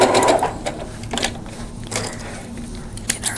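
Home sewing machine stitching quilt pieces for a drunkard's path block, running in a steady, loud mechanical whir that pulses slightly across a few seconds, close by with no talking.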